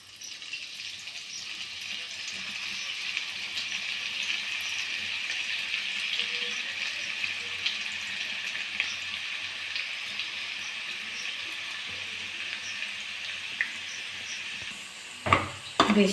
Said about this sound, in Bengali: বাকি মিষ্টিগুলো আমি একইভাবে ভাজা করে নেব